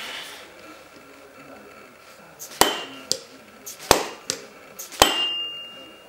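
A soft-faced hammer knocks on an axle nut threaded flush with the end of a hub axle: four or five sharp, separate strikes at uneven intervals, close and loud, over quiet background.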